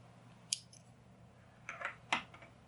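Scissors snip through worsted weight yarn during crochet work, giving a few quiet, crisp cuts spaced apart in an otherwise hushed room.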